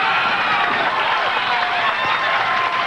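A crowd at the 1994 ABC Senior Masters bowling tournament cheers after a strike, a steady, fairly loud roar of voices and applause that holds without a break.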